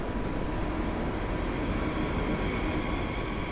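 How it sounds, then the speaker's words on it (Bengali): Low, steady rumble of a train getting under way, a constant dense drone with no talking. "আবার ট্রেনটি চলতে শুরু করে।"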